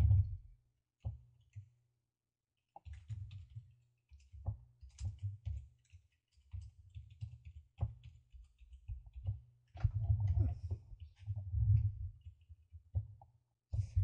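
Typing on a computer keyboard while entering values into a Visual Basic settings form: quiet, close key clicks in uneven bursts with short pauses, alone and without talk.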